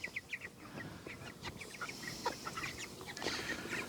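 Meat chickens in a chicken tractor cluck and peep over and over, a busy flock at close range with soft scratching beneath, and no one speaking.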